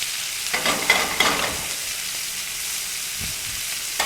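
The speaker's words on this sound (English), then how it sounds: "So now that I saute my shallots, my garlic" Shallots and garlic sautéing in a pan, a steady broadband sizzle with a few louder stirring scrapes early on, heard close and alone.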